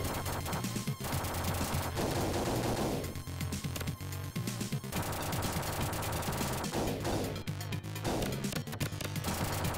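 Shotgun blasts from the T2 arcade video game ring out in rapid bursts over dense game music and explosions, loud and chaotic with repeated gunfire clusters throughout.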